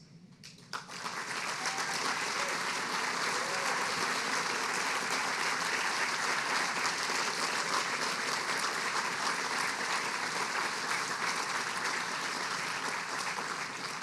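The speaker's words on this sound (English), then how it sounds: "if all of our team from NCSSM could please stand just for a round of applause" Attendees at the NCSSM Morganton grand opening ceremony applaud the NCSSM team as they stand, a steady wash of clapping from a large crowd that rises after a second and holds evenly, fairly distant and soft.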